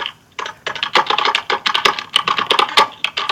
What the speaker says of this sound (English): Somebody was tapping on the keyboard.